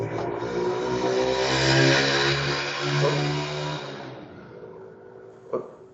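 A car passes along a residential street in Santa Fé do Sul, its engine swelling to a loud, close peak and then fading away, followed by a single sharp knock near the end.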